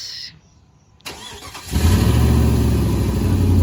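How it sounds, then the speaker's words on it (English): A quiet moment, a click and brief crank, then a Jeep engine catches and settles into a loud, steady rumbling idle close by. "Yeah, I'm gonna start the car."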